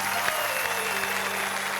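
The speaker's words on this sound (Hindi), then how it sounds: "हम जोरदार तालियों से स्वागत करें।" Audience applause welcomes a poet on stage at a comedy and poetry show, brisk, steady clapping filling a brief moment with a low hum underneath.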